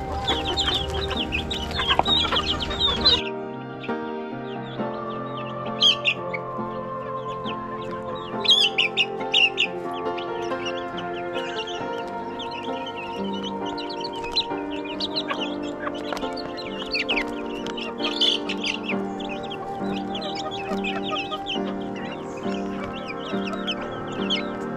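Young chicks in their first months keep up a busy, close stream of peeps and clucks for the whole stretch, with a brief louder burst of noise at the very start.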